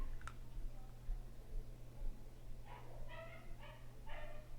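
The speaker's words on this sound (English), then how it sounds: "Now you hear a large dog barking." A dog barks several times in a quick series, muffled and somewhat distant, over a low steady hum.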